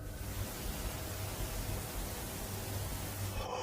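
Spirit box radio static, a dense continuous hiss with a low hum underneath, steady and moderately loud for a few seconds with no speech.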